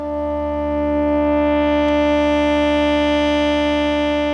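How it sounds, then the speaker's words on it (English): A sustained electronic tone from a modular synth patch on a Moog Spectravox, with rich harmonics, holds steady, swelling slightly louder early on, with no talking. "Now we're going to create a modular synth patch to make another voice that sounds like this."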